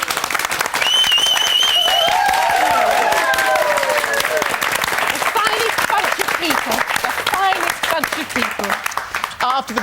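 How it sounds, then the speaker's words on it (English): Studio audience applause on the live British daytime television show This Morning in 2009: sustained, dense clapping with some cheering, loud and close, with people talking over it throughout. "would you like to give Her Majesty a round of applause?"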